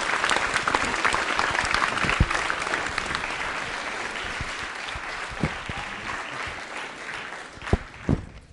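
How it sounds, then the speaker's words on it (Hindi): An audience at a school quiz show for World Diabetes Day applauds loudly for a guest, a dense and steady roar of many hands clapping throughout, with a few louder claps standing out near the end. "तालियां जोरों से बजाइए इनके लिए आप"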